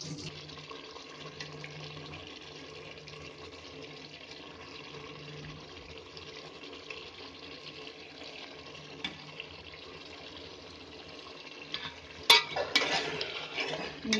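Aloo gobi matar roasting in a pan gives off a steady, soft sizzle with faint stirring scrapes throughout, followed near the end by a few louder clattering stirs.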